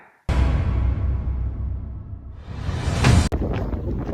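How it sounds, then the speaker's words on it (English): Strong wind suddenly slams into the microphone, a loud rumbling roar that eases briefly and then swells again in a heavy gust. "it is very windy out here"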